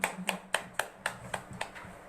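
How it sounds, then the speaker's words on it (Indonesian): A small audience at a preaching competition gives a short, steady run of hand claps, about nine evenly spaced, fairly faint and alone. "Tepuk tangan."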